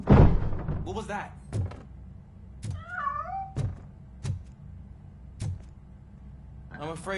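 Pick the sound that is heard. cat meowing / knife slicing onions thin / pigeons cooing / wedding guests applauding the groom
cat meowing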